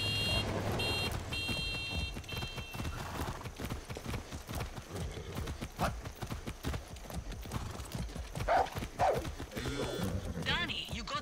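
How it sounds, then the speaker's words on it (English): Rapid hooves pound in a steady galloping rhythm in Far Cry 6, close and continuous, with occasional electronic beeps and a brief whinny mixed in. "That's a good horse."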